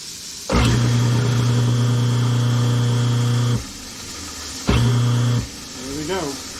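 A newly installed kitchen garbage disposal switches on with a steady whining motor hum for about three seconds, cuts off, runs again briefly, and then a voice follows.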